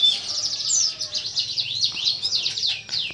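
A caged canary chirps close and loud, a rapid run of bright, sweeping tweets and trills over faint background hum.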